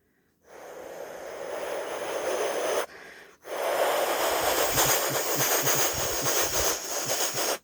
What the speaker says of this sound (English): the train just comes really fast and then just goes goes fast